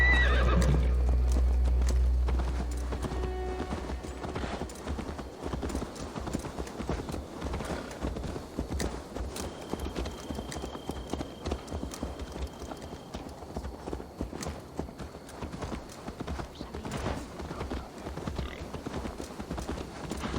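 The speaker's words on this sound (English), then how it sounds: "Let's return the horse." A horse in Assassin's Creed Valhalla whinnies loudly at the start, then its hooves clip-clop in a steady rhythm that carries on throughout.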